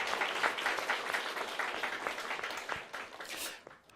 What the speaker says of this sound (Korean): 우리 하나님께 감사의 박수를 한번 드립시다.